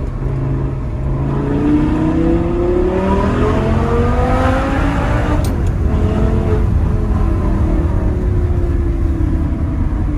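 An Audi R8 V10 Plus engine revs loudly and close, its pitch sweeping up and down in rising and falling surges, then holding a steady high drone; no one speaks.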